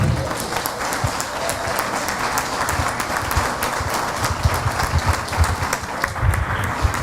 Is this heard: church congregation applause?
yes